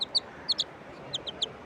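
Country chicken chicks cheep nearby in short, high-pitched peeps arriving in quick pairs and small clusters, clear and close against a quiet outdoor background.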